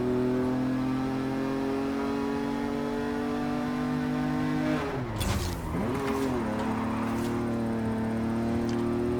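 An Italian exotic car in a racing video game, heard from the cockpit, drones at a steady high engine note, then dips and swoops through a quick downshift and rev before holding steady again, loud and unbroken.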